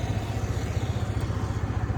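A Yamaha R15 motorcycle running after an unwanted-noise fault was repaired, giving a steady low engine drone with a regular pulsing beat, fairly quiet and with no talk over it.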